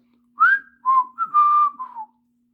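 A short whistled tune of a few clear notes, close and alone against silence.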